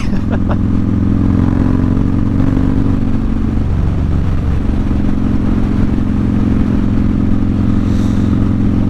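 A Harley motorcycle cruising on an early-season ride, its engine a loud, steady low rumble with a brief shift in tone partway through, wind noise throughout.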